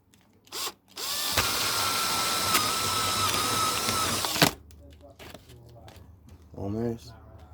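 Power drill bores a hole into a plastic box, a loud whirring run of about three and a half seconds that stops abruptly, framed by brief handling noises and a voice speaking afterward.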